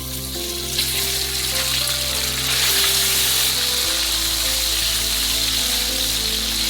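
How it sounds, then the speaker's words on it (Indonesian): Chicken pieces frying in hot oil in a pan, a steady dense sizzle and crackle that continues throughout, close and fairly loud with no talking. "Lalu goreng ayam terlebih dahulu."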